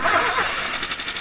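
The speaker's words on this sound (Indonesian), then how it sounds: "kita hidupkan mesinnya." A Toyota Avanza engine started with its oil filter removed, so it runs with no lubrication at all; a brief, steady broadband mechanical roar close by, with no talk over it.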